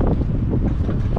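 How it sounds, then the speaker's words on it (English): Strong wind buffets the microphone outside a stadium in Swansea. It makes a loud, continuous low roar with gusty swells and no voices. "It's very windy at the moment,"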